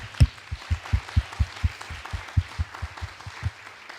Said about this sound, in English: So let's give Dan and Karthik a big round of applause for all their leadership.